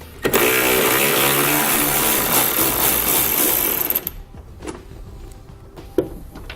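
A T47 Torx bit on a power driver spins a bolt out of a pickup truck tailgate, giving one loud, steady whir for about four seconds, then stopping, followed by a few faint clicks and handling noises.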